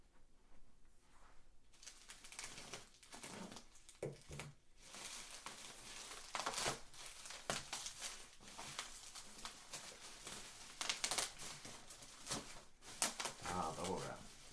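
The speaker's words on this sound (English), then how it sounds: "I got my Emerson knife here. We're going to cut it open and see what's inside." A knife from Emerson slices open a camera box wrapped in bubble wrap, giving scattered close crinkling, scraping and crackling bursts of plastic and cardboard, with some quieter handling pauses in between.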